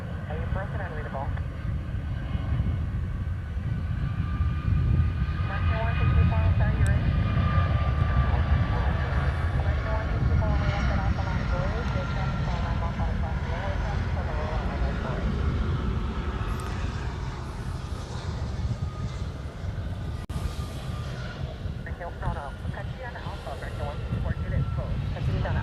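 Asia Pacific Boeing 757 airliner at Honolulu airport, a steady, fairly distant jet engine roar that holds throughout under people talking.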